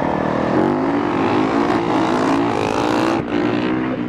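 A Yamaha YZ two-stroke dirt bike engine screams at high revs during a wheelie race, sustained and loud with rising pitch sweeps as the throttle is worked, a brief drop near the end.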